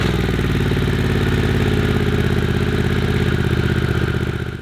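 A Harley-Davidson Pan America motorcycle with a higher flow aftermarket exhaust, titanium body and carbon fiber tip, idles close by with a steady, rapid, loping pulse and a slight fade at the end.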